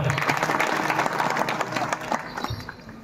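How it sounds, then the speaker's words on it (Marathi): Audience at a kirtan claps for the children, dense rapid applause from a crowd that gradually thins out toward the end, with some voices mixed in. "पोरांसाठी टाळ्या वाजवा एकदा."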